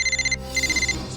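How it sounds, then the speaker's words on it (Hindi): A mobile phone ringing inside a drawer, two quick bursts of a bright, rapidly pulsing electronic ringtone separated by a brief gap, heard alone. "फोन कहाँ बज रहा है?"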